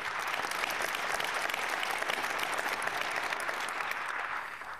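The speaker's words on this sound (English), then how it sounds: "That deserves a round of applause." Dense audience applause at a business event with a county executive, continuous clapping at an even level that eases off slightly toward the end, with no one talking over it.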